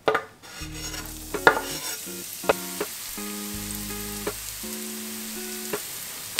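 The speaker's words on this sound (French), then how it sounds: "Une fois que c'est chaud, tu rajoutes ton échalote." Shallot fries in hot oil with a soft continuous sizzle, partly covered by gentle melodic background music and a few light clicks.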